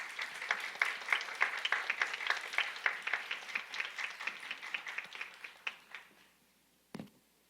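Audience in a Korean church youth worship service applauding to welcome a speaker forward: steady mid-distance clapping from many hands for about six seconds, fading out, then a single sharp knock near the end.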